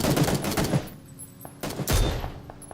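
Gunfire in a first-person squad match of the video game PUBG, a loud burst of rapid shots followed by a short pause and then two more sharp volleys close together, with no talk.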